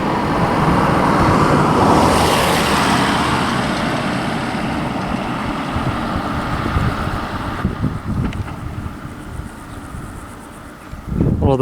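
Cars pass along a road, a loud sustained roadway rush that swells and slowly fades, with wind buffeting the microphone and another vehicle approaching near the end.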